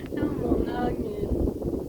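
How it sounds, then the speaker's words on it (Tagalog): Gusty wind buffets the microphone in a low, blustery roar, briefly and close up. "Ang hangin."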